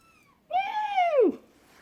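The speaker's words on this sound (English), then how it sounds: "Naughty kitty cat." A house cat gives a single clear meow, rising then falling over about a second, close and distinct in a quiet room.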